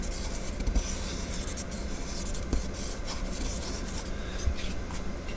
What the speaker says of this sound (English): So I'm going to draw it on the inside here.